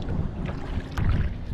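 A solo kayak paddling through water littered with plastic bottle caps, forks and fishing gear in the Florida Keys, giving soft splashing paddle strokes against steady wind noise, close and moderately loud.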